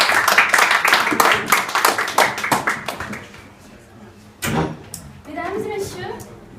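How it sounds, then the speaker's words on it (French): Clapping from a small debate-practice audience greets the opposition leader, a burst of sharp, distinct handclaps for about three seconds that fades out, with scattered voices and shuffling following. "j'appelle tout de suite à nous répondre la chef de l'opposition sous votre applaudissement"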